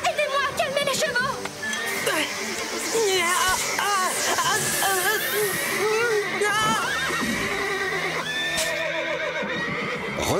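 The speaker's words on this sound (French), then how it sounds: "Marie et Rosa, aidez-moi à calmer les chevaux!" Agitated horses in an animated stable scene give a series of shrill, wavering neighs and whinnies, overlapping one another in near-continuous bursts over music and commotion.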